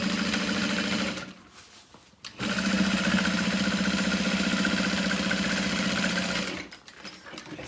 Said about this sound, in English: So now I am top stitching the side panels 1/8 of an inch away from the outer edge along the vinyl